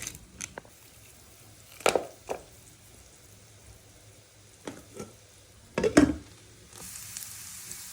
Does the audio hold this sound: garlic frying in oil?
yes